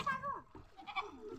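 A goat bleats nearby on a riverbank in rural Bangladesh, a single wavering cry followed by a second shorter call, fairly faint, with soft background voices.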